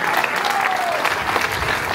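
A live concert crowd in Salerno, Italy, applauds with a dense, steady wall of clapping that holds evenly for the full two seconds, with no distinct voices standing out.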